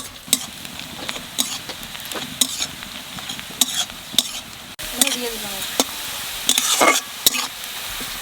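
Onions fry in a pan with a steady sizzle while a utensil stirs them in a series of sharp scraping strokes, close and fairly loud, with no talking.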